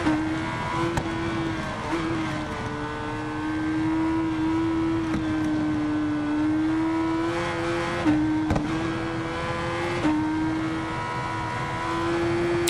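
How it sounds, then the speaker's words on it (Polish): A RiDE 4 video game motorcycle engine holds a steady high drone, shifting pitch with brief dips and rises as it accelerates, loud and continuous. "Posłuchajcie również maszynki, jak brzmi. To oczywiście kawał dobrego silnika."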